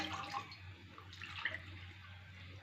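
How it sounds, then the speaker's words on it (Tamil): Water poured into a cooking pot to start a sugar syrup, a soft, steady trickling splash running through the whole short stretch, fairly quiet and close, with no talking over it. "ஐநூறு எம்எல் தண்ணி ஊற்றுறேன்"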